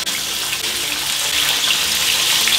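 Pieces of sweet-style marinated chicken for a fried chicken burger fry in hot oil in a pan with a dense, loud, continuous hiss and sizzle, close by and steady, with no voices.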